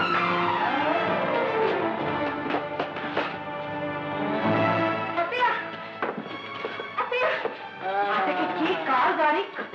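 A car skids with screeching, sliding tires just before crashing in an old Telugu film scene; the squeal sweeps rise and fall through a dense, loud mix of music and voices.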